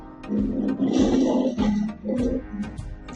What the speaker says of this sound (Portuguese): Vamos comparar aqui o rugido de um leão com o miado de um gato.